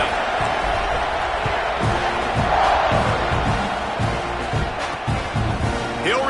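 A stadium crowd in the NCAA 26 college football video game roars in a dense, continuous wash of cheering before a kickoff, loud and sustained beneath a commentator's voice.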